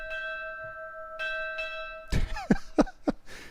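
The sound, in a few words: bell ringing in a video game (World of Warcraft)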